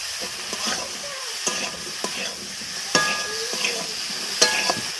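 Washed cucumber pieces tossed into a pan of cooked-down tomato with salt, sizzling and being stirred; a steady low fry is broken by repeated sharp clicks and scrapes of the spatula against the pan, with no voices.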